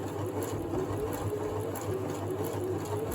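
A sewing machine stitches slowly through thick 640 gsm fabric for a rag mask, giving a steady, close motor hum with a faint repeating needle rhythm throughout and no talking.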